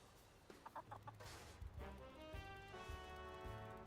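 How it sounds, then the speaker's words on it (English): Silky chickens cluck in a farming video game, a run of short, soft clucks and chirps over quiet background game music, faint and evenly spaced. "little chicken noises"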